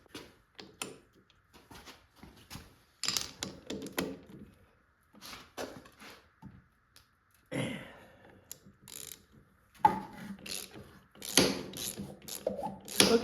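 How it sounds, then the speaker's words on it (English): A socket wrench ratchets against the engine of a Yamaha YZ80 dirt bike in short, irregular bursts of clicking, with pauses between them and a few louder clunks. It sounds close and there is no talk. "throw a socket on there and see what happens"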